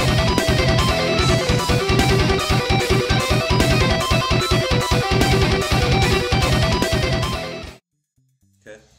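A music track plays loudly with a solo over a stuttering, pulsing breakdown, steady driving rhythm throughout before cutting abruptly to near silence at the end.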